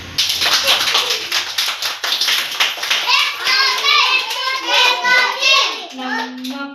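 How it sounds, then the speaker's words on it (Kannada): Anganwadi children clapping together in a quick, uneven run of hand claps, close and lively, with young voices chanting and singing over and after them. "ಎಲ್ಲ ಚಪ್ಪಾಳೆ"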